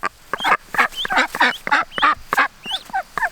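Mother ducks calling loudly and close by, a string of harsh honking quacks in quick succession, each call short and separate, near their escaped ducklings.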